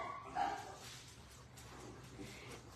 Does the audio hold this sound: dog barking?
yes